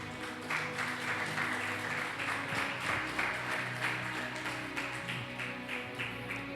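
Church congregation applauding during a Sunday service, steady rhythmic clapping from many hands filling the room at moderate loudness, continuing evenly without talk.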